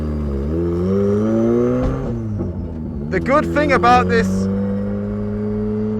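A 300 BHP Mazda MX-5 drift car engine running, a loud steady engine drone that briefly dips and rises in pitch, heard from close by with someone talking over it partway through.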